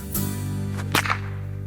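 A single sharp crack cuts through a steady low hum, preceded by a soft swishing rush of air.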